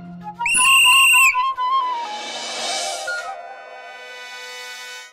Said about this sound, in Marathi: शिट्टी किती वेळा वाजली? एक वेळ.